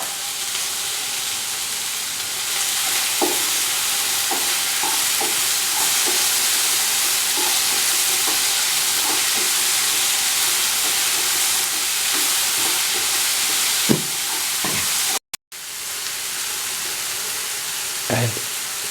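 Chopped tomato frying in a pan for tomato rice, with capsicum and salt already in, giving a continuous loud sizzle broken by scattered scraping stirs and a brief gap near the end.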